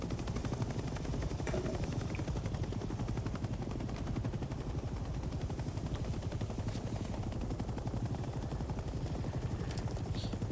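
A helicopter in the video game Hell Let Loose: Vietnam runs with a steady, fast rotor chop and engine drone, constant and loud throughout, with faint gunfire-like clicks in the background.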